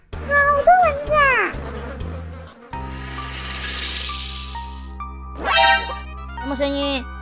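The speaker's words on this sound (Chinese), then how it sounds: "好多蚊子啊！" Mosquitoes in a rainforest in the video game Mini World give off a whiny insect buzz that swells and fades across a game soundscape, with cartoonish voices and effects around it.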